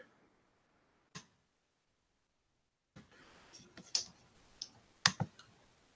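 Keystrokes tap on a laptop keyboard, starting with a single isolated click, then a faster irregular burst of close, crisp clicks after a pause.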